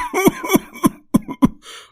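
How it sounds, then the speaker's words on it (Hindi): In a cartoon, a family gathered in a courtyard full of smoke coughs in five sharp, loud bursts in quick succession, with a short wheezy breath at the end. "धुएं से सब खांसने लगते हैं।"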